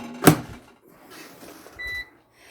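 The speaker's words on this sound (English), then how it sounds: "Now I'm going to go ahead and put them in to my air fryer." Air fryer being loaded with vegan nuggets: one sharp clack of the basket, soft handling noises, then a short electronic beep.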